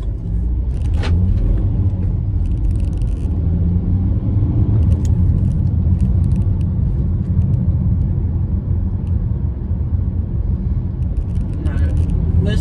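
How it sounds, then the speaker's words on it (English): Inside a BMW E91 320d while driving, the 2-litre turbo diesel gives a steady low rumble and road drone, with a few brief clicks and knocks early on and someone talking throughout. "this 2-litre turbo diesel power plant is very torquey and delivers its power smoothly and without delay"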